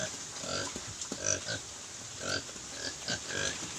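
Native crossbred pigs with large ears grunt repeatedly on a provincial farm, short rough snorts coming in irregular bursts at moderate distance over low background noise.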